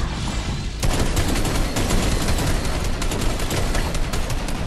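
Rapid automatic gunfire rattles continuously in a first-person video game, a dense loud burst of shots that starts abruptly after a quieter opening moment.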